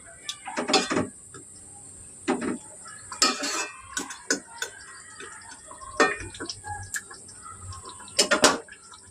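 Rohu fish curry is stirred in a pan with a metal utensil, producing scattered clinks and short scraping bursts separated by quiet gaps, close and fairly loud over a faint steady background.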